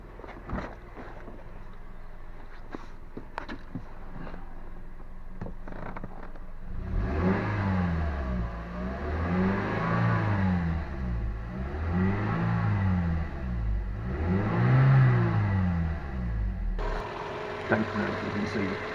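Toyota Auris petrol engine idling, then revved several times in a row, each rise and fall of the revs clear and close by, before settling back to a steady idle.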